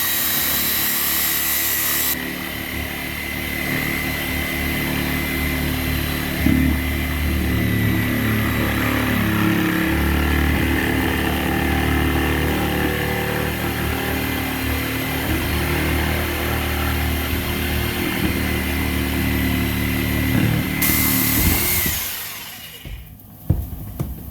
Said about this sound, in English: So I'm just going to go ahead and cut through the elbow.